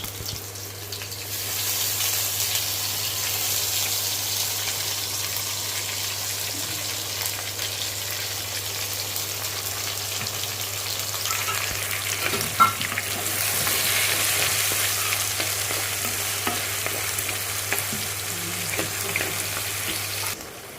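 Masala spices sizzle and crackle as they fry in hot oil for a fish pulusu, with a steady broadband hiss, occasional stirring scrapes and a sharp tap near the middle, continuous and close with no talk.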